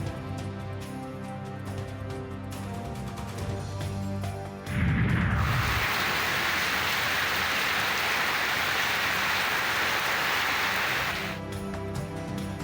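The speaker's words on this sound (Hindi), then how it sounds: "पंजाब के मुख्तलिफ शहरों में मूसलाधार बारिश" Heavy monsoon downpour in Punjab, a loud, dense wash of rain that surges in suddenly after a low rumble and roars steadily for several seconds before easing back to a softer background.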